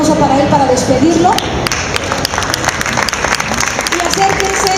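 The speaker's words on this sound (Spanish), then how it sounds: "yo les quiero pedir un aplauso para él para despedirlo" An audience breaks into applause partway through, a dense, steady clapping that fills the room after a brief stretch of voices and music.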